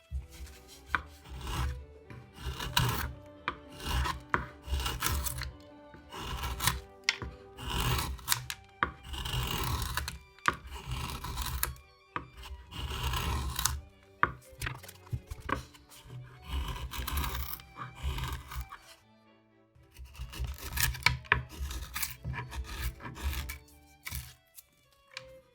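Chisel or gouge cutting into wood to rough out the shape of a bass bar for a violin, a run of crisp chopping and paring strokes in uneven bursts with short pauses, close and fairly loud, no talking.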